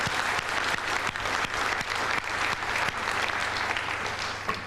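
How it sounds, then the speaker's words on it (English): Sustained applause from a gala dinner audience at an ethnic business awards presentation, honouring award winners: dense, steady clapping from many hands, fairly close and even throughout, with no talk over it. "Let's give them a warm round of applause"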